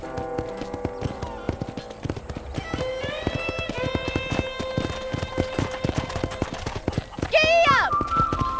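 In the Red Dead Redemption video game on PC, a horse gallops with rapid, steady clip-clop hoofbeats under game music, and a short high cry sounds near the end.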